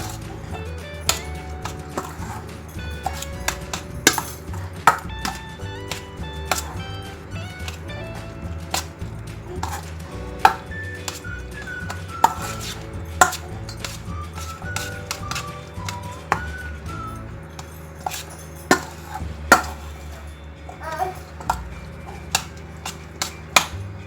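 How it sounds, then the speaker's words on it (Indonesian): Warm sweet corn kernels tossed with margarine in a bowl, a spoon tapping and scraping in a steady run of light clicks over soft background music. "selagi jagungnya masih hangat, langsung kita aduk sampai merata, meresap semuanya."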